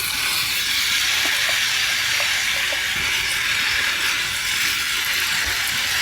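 Beef bulgogi with onions sizzles over high heat in a hot pan, a steady loud hiss with faint crackles running throughout.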